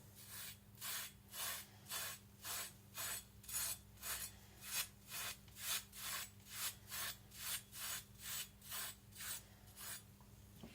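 A Tojiro Shirogami nakiri knife edge is stroked very softly over a sharpening stone to remove burr, giving about twenty steady, even rasping passes in a regular rhythm, close and alone, over a faint low hum.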